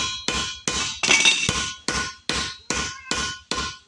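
Hammer repeatedly striking a blacksmith wire cutter set on stripped copper Romex wire, eight sharp ringing metallic blows at a fairly even pace, close and clear with brief decays between hits.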